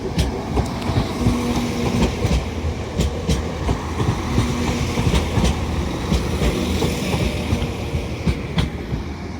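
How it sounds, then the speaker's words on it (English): A Northern class 195 train arrives at York station on the East Coast Main Line. It gives a steady rumble with rhythmic clickety-clack over the rail joints, a brief horn-like tone and station ambience, with no talk. "Arriving in now is a terminating Northern train service from Blackpool North."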